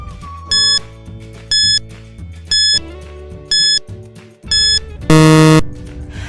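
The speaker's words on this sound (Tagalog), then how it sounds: "Timer starts now." Quiz countdown timer with five evenly spaced electronic beeps about a second apart, ending in a longer, louder buzzer-like tone, heard over a soft musical background with no talk.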